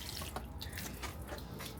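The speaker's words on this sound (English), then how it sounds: "Let them soak and then water some more." Water poured from a watering can onto potted lavender and other garden plants, a steady close splashing and trickling stream that runs continuously without pause.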